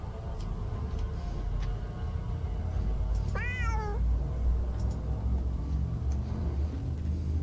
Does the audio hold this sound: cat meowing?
yes